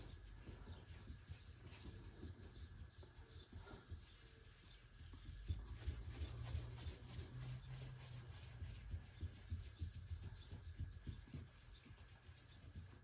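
Steady, rhythmic rubbing and scratching of sandpaper as a 1966 Mustang's body is hand-sanded, continuous strokes up close with no talking.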